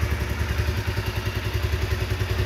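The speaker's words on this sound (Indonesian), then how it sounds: "Dengerin suara mesinnya halus sekali ya." Original-carburettor 2010 Honda CBR motorcycle engine idling, a steady, smooth, close-up mechanical chug with an even rhythm and no other sounds.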